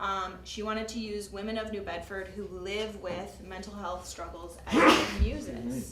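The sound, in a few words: sneeze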